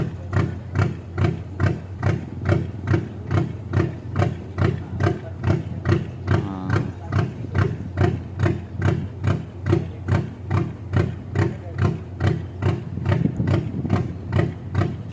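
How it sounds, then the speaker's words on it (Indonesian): A Mitsubishi 6D15 diesel engine, taken from a Fuso truck, powers a wooden jukung boat at a steady idle, its heavy rhythmic knocking pulses repeating evenly and loudly throughout. "Itu suaranya ya mas, mesin 6D15 Mitsubishi, seperti itulah suaranya ya."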